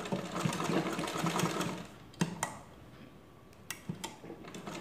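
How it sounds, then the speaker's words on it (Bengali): Sewing machine stitching a folded newborn baby diaper pad, a steady close whirring run that stops after about two seconds, followed by a few sharp clicks and taps of the machine. "আমি কীভাবে সেলাই করতেছি এভাবে ধরে সেলাই করে দিবেন"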